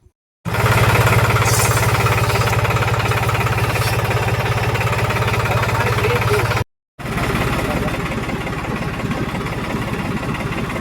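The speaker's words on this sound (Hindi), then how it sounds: "ट्रैक्टर चालू करके अपन इसको मिला देते हैं।" A farm tractor engine runs steadily to mix pesticide spray for a soybean field, a loud continuous mid-pitched chugging drone with a brief cut midway, close and dominant.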